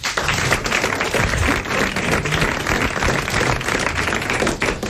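Studio audience applause on a 1989 French television game show, dense steady clapping sustained throughout at close range, with no one speaking over it.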